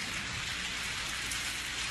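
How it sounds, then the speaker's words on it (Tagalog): Steady rain pours in a cartoon scene, a dense even hiss of falling drops that continues without a break. "Umuulan!"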